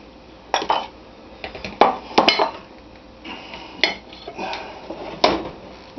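Cajun brisket pie filling being spooned into a casserole dish, a series of clanks and scrapes of a utensil against the dish in irregular bursts, close and fairly loud, with no voice.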